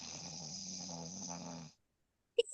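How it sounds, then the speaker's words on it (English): A sleeping person snores in a fast, rasping rhythm that runs steadily for under two seconds. It stops abruptly, and a brief sharp click follows. "You don't hear the snoring? Like that fast?"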